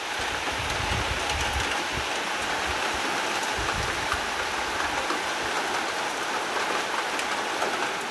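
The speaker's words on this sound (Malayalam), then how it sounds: "പുറത്ത് നല്ല മഴ കേട്ടോ" Heavy rain falls steadily outside, a constant dense hiss of drops on surfaces with no talking.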